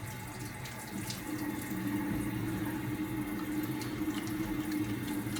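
Tap water runs steadily into a sink as hands are washed during a babyback rib barbecue cook. The rushing flow is continuous and close, with no speech.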